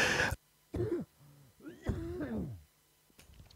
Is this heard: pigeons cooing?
no